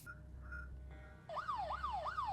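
In a video game, a police siren starts up and rises and falls in a steady wailing sweep, heard alone over a low background hum with no voices.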